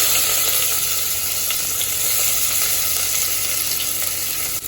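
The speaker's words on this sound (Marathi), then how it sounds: "तर इथे मी राई घातलेली आहे, जिरे, त्याच्यावर आपल्याला घालायचा आहे कांदा," Onion frying in oil with mustard seeds and cumin for masale bhaat, a loud dense continuous sizzle with faint stirring, close up and without speech.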